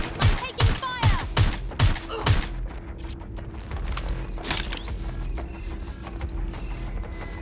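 Gunfire in the video game Watch Dogs Legion: rapid bursts of loud automatic shots in the opening seconds, then scattered single cracks and mechanical clicks over a steady background hum.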